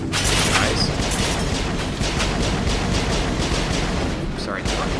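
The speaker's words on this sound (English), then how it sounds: "What are they shooting at right now?" Video-game gunfire from Mass Effect rattles in continuous loud volleys with sharp cracks and booming impacts that fill the whole stretch.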